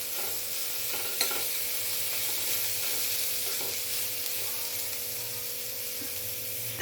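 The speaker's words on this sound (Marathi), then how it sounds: "आता यात मी थोडं ओलं पिसलेलं खोबरं टाकते आहे." Grated fresh coconut being stirred through bitter gourd in a frying pan, with a steady broadband sizzle, occasional soft scrapes of the spatula, and a faint steady hum beneath.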